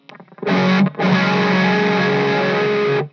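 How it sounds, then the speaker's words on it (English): A loud electric guitar through a chorus pedal rings out a brief strummed chord, then a sustained, shimmering chord with a wide, swirling modulated tone that holds for about two seconds. "Again, I'll add the chorus pedal in."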